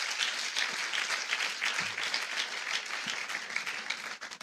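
A church congregation applauds during a Sunday service, praising the Lord in a dense, sustained wash of many hands clapping at moderate distance, with faint murmur underneath and the clapping thinning slightly at the end.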